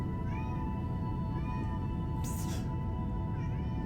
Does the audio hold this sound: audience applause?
no